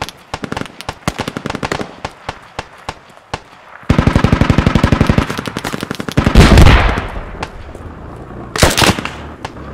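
Gunfire in the infantry shooter Squad, with rapid bursts of automatic weapon fire and separate single shots, loud and close, broken by a brief pause and a heavier blast near the end.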